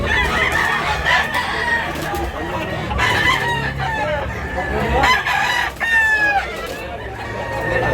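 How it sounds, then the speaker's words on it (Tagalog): Chickens and roosters at a cockfighting-bird market in Tabunok, Cebu, crow and cluck loudly and close by, several overlapping cock-a-doodle-doo calls over a busy, noisy background. "Gandang manok."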